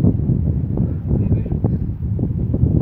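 Wind gusting outdoors at night, a loud continuous low buffeting rumble against the microphone that swells and dips, with indistinct voices now and then beneath it.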